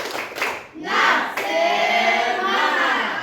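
Students in a classroom at an Islamic junior high school in Boroko perform a rhythmic spirit clap, with fast bursts of group hand claps and shouted voices that fill the room.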